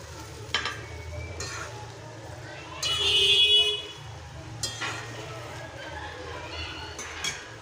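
Fish frying in a pan of hot oil while cooking pezar kali, a steady sizzle under a low background hum, swelling briefly midway with scattered stirring clinks and a person talking nearby.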